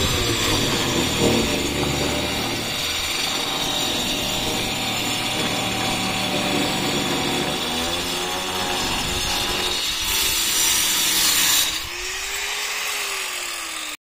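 A power tool cuts through a sheet being fitted for a door, a loud, continuous whining saw with shifting pitch that drops and fades near the end, with no talk.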